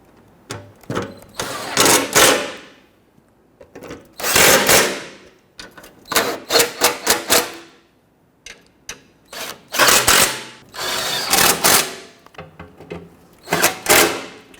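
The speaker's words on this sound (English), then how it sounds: "Go ahead and tighten down all of your hardware." Hardware being tightened with a ratcheting tool after installing an oil pressure switch on a 2006-2010 Hummer H3 3.7L, heard as bursts of close, loud mechanical whirring and clicking separated by short pauses.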